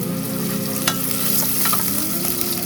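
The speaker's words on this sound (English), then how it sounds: "And we're just gonna saute." Garlic and onion sautéing in a hot pan for a lentil soup, a loud continuous close sizzle and crackle with a few stirring scrapes and no talk.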